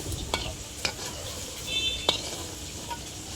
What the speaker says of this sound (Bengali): আমরা বড়াগুলো সব ঘুরিয়ে ভেজে নিচ্ছি।